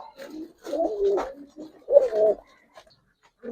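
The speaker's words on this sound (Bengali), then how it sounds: "তো এই যে কবুতর গুলো দেখতে পাচ্ছেন এগুলো কিন্তু মিলিটারি কবুতর" Soft, throaty cooing of military breed pigeons in a few rolling phrases, close by, with short pauses between calls and no talking.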